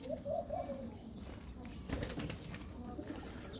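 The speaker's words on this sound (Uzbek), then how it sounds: "o'zim uchiryapman kaptarni" Domestic pigeons flying and cooing outdoors, soft cooing notes early on and a burst of wing flapping near the middle over a steady background hiss, moderately distant and faint.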